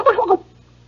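A voice imitating turkeys gobbling, a quick warbling burst under half a second long, near and clear, that drops off into quiet.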